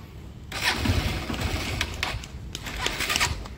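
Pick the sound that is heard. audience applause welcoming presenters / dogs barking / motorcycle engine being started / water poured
motorcycle engine being started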